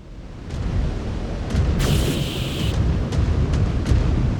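A headshot explosion on a 100-ton Atlas mech in MechWarrior 5: Clans comes as a loud rumbling burst with a bright hissing blast in the middle, set among repeated short cracks and steady low battle noise.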